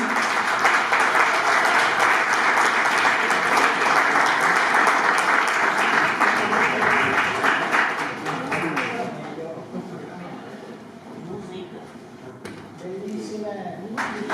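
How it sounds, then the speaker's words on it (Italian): Loud sustained applause for the hostesses at a Miss Perla beauty pageant at a villa, fading after about nine seconds into chatter and voices. "Un applauso alle nostre meravigliose madrine"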